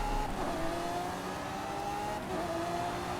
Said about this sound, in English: I went on the accelerator a little bit too quickly